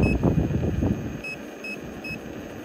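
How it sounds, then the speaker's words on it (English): A Gotway Tesla electric unicycle gives repeated short high electronic beeps, four evenly spaced chirps, sounding over a low rumbling background that quiets after the first second. "it's beeping at me constantly"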